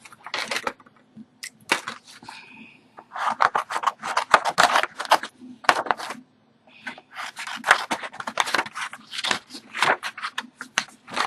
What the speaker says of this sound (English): let me grab my cutter bee scissors